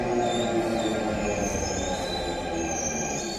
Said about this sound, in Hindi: आज हम आपको उस मेट्रो का सफर दिखा रहे हैं जो बिना ड्राइवर के ही आगे बढ़ रही है।